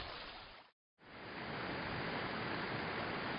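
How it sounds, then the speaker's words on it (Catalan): A rushing waterfall in a Valencian river landscape, a dense continuous roar with a brief gap near the start before the steady torrent resumes. "La remor d'una cascada."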